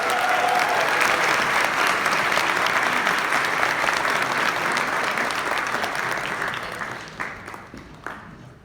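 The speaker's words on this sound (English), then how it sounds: "Can we give them a huge round of applause?" An audience at a Houston event applauds loudly and steadily, a dense sustained clapping that gradually thins out into a few last claps near the end.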